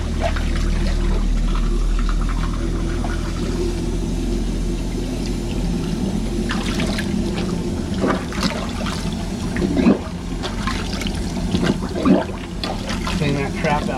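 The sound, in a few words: water flushed down kitchen sink with garbage disposal running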